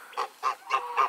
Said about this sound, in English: Is the goose talking to you?